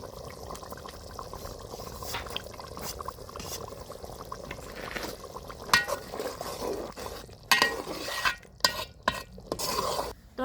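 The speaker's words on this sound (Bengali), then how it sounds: "মাটির চুলায় মাংস রান্না" Meat curry being stirred in a pot on a clay stove, a steady wet scraping and bubbling texture with occasional sharper clinks and scrapes near the end, fairly close and without talk.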